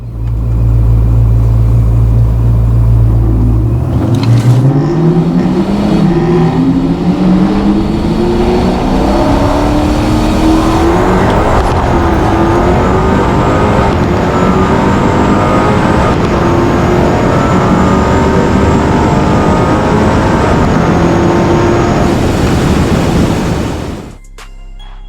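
A rear-wheel drive Kia Stinger GT launches hard in a Houston roll race, its engine roaring and rising in pitch through the gears with a loud, sustained rumble up close, cutting off abruptly at the end.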